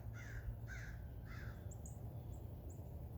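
Three harsh crow caws ring out in quick succession, followed by a few faint high chirps from smaller birds over steady low outdoor rumble.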